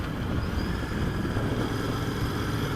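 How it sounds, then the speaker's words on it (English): Exhaust note of a Royal Enfield 650 Interceptor motorcycle, a steady low rumble that stays continuous and fairly loud throughout without obvious revving. "just listening to the exhaust note"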